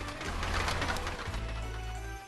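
Bird cooing in a pigeon-hunting video game, a soft steady dove-like call running continuously over a droning game background with no talk.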